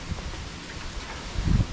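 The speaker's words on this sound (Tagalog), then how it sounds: "tingnan nyo guys, ang lakas ng hangin dito sa labas" Strong outdoor wind rushes through leaves in a constant rustling wash, with a louder gust near the end and no talking.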